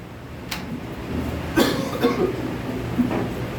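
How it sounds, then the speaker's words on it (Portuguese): Throaty coughs during a church service, with one strong cough and a few lighter ones spread over a few seconds, close and with no talk. "Desculpei a tosse."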